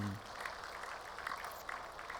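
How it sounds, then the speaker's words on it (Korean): A church congregation applauds the worship team at an early-morning service, soft, distant clapping under room noise that lasts only a couple of seconds. "찬양팀 우리 감사 박수 한번 하겠습니다."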